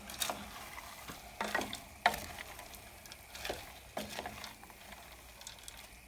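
Meat and frozen peas stirred in a pot, a spoon scraping and clattering in a few separate bursts over a soft background sizzle, close by with no talking.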